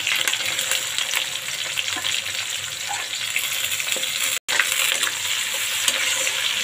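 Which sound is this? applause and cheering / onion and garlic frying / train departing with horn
onion and garlic frying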